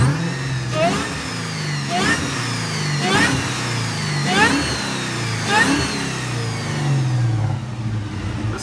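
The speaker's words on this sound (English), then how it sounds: "here's some sound bites of it with the supercharger and built engine" A supercharged Ford Mustang with a built engine revs repeatedly, about seven sharp throttle blips rising and falling in a steady rhythm over a rumbling idle, loud and close.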